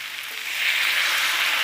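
Hot pan of frying mung dal with grated ginger, after a splash of water is added, giving a steady, close hissing sizzle that grows slightly louder after a moment and holds on its own.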